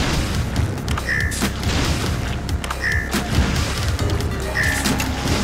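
Something fires repeatedly in the platformer Super Meat Boy each time the character jumps: punchy booming shots at regular intervals of roughly one and a half seconds, over steady game music.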